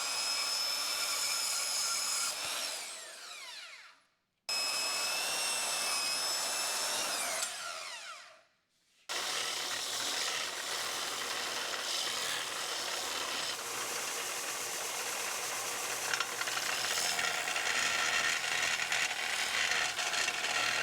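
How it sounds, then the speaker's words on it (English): A bandsaw cuts steel stabilizer spikes to a point for a custom hay spear, two sawing passes with a rising pitch that drop to silence, followed by a long steady roar of cutting, no voices. "if I take the bandsaw and cut off this edge and cut off that edge, I can come to a point."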